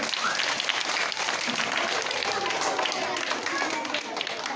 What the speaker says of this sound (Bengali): প্রত্যেকের জন্য আমার একবার জোরে হাততালি হবে